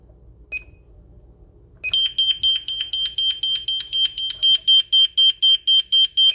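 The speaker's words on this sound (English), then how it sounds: "first we're going to do medical, which is just a beeping noise" A Simon XT security system's medical panic alarm: a single short beep, then after a pause a steady, rapid series of loud, high-pitched electronic beeps repeating evenly.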